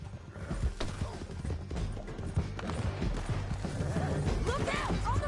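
In a video game, horses gallop with a rapid clip-clop of hooves over a low rumble, steady and fairly close, with a whinny near the end and voices speaking over the hoofbeats.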